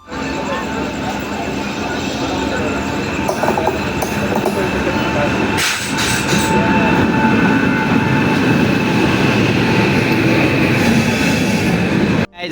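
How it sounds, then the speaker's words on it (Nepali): A train engine rumbles in on the rail line on a Nepal to India journey, a loud steady roar with wheel noise and a brief louder pass near the middle, continuing close by throughout. "रेलको इन्जिन आउँदैछ"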